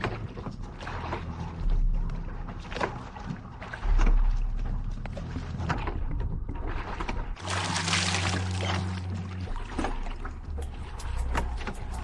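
Water sloshes and splashes steadily as someone wades across a river, with a louder rushing surge partway through, close and continuous with no talking.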